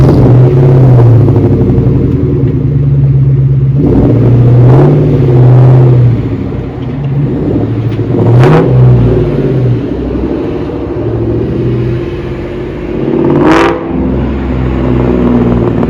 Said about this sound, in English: So here's a little exhaust clip of the car just driving around after I got gas.